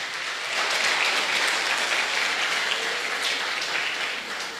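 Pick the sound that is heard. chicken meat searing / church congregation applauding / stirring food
church congregation applauding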